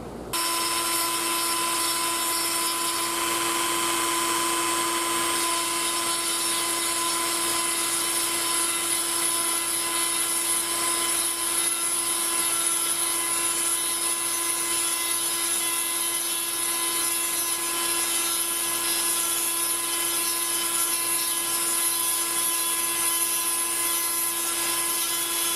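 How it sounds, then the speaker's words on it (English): A Dremel rotary tool fitted with a diamond burr grinds a small hole into a glass tube, giving a steady high-pitched whine with a constant tone that holds at even loudness throughout, with no talking. "we use the Dremel tool and a diamond burr. And we just take that and we just grind us a little hole in there"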